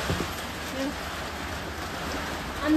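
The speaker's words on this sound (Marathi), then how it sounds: "धुवा नाही तो पाऊस आहे" Steady rain hisses softly in the background, a constant gentle patter with faint voices underneath.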